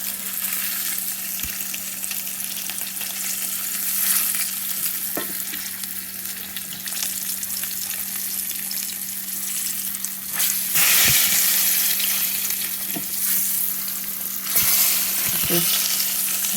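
Pork chops browning in a frying pan for smothered pork chops with mushroom gravy, a steady close sizzle with occasional sharp crackles and pops throughout, no talking.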